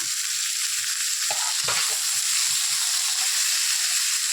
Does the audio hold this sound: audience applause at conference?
no